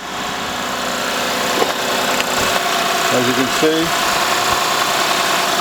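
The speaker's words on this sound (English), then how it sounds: "engine is running" A car engine idling after a jump start from a portable jump starter, a steady low hum and vibration while someone talks over it nearby.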